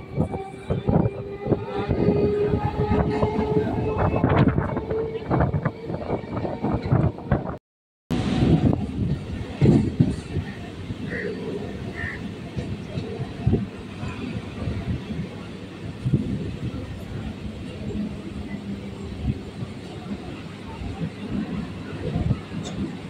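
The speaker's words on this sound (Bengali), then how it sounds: "আমাদের ট্রেন এখন বাঘাযতীন স্টেশন ছেড়ে বেরিয়ে যাচ্ছে।" A local train pulls out of Baghajatin station on the Sealdah–Sonarpur suburban line, giving a steady rumble and rattle with wind buffeting close by, broken by a brief dropout, while a voice speaks over it.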